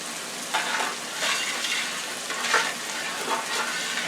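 Oven-cooked rice being mixed with vegetables in a pan, a continuous soft sizzle under several scraping, rustling stirring strokes at an uneven pace, close and moderately loud, without voices.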